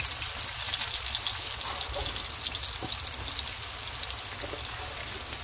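Bok choy stems sizzling in a hot pan, a dense, steady crackling hiss like light rain, close and continuous without any voices.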